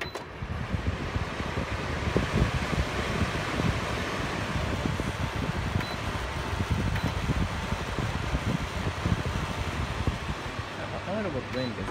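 Astina brand evaporative air cooler with one blade missing, switched on in an apartment and brought up from off to its highest speed, giving a steady, loud broadband fan whoosh that holds throughout with little change.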